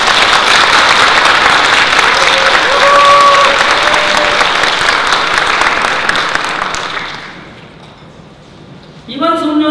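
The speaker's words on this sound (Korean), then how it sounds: "여러분 박수 한번 쳐주십시오." Applause from the audience at an association's year-end party, a loud, full round of clapping from a crowd that carries on for several seconds, then fades away before a voice starts speaking at the very end.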